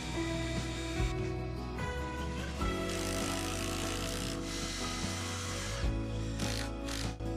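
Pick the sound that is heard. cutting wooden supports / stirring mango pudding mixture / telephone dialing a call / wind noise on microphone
cutting wooden supports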